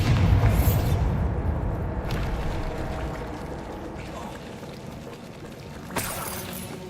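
A Bombarda spell blast in Hogwarts Legacy, a loud booming explosion with shattering debris at the start, decaying into a long rumbling tail, with a smaller crack near the end; faint speech may sit underneath.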